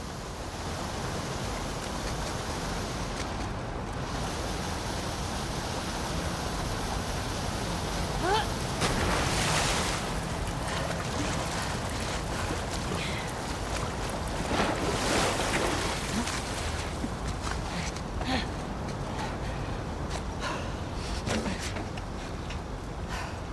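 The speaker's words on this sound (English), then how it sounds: "the player was faced with a fast-flowing torrent of water they couldn't cross" A fast-flowing torrent of sewer water rushes through an underground passage in The Last of Us Part II, a loud, continuous broadband roar with surging swells that runs throughout.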